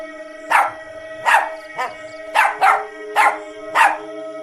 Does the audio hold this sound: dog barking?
yes